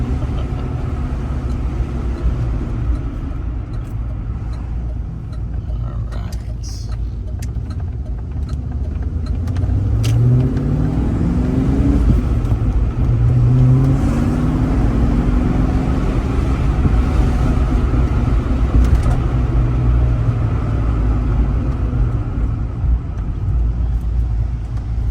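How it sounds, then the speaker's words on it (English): A 1987 Ford Mustang GT with T-tops drives by, its low engine rumble growing steadily louder and fuller partway through, with no talk. "Yeah, tires are spinning."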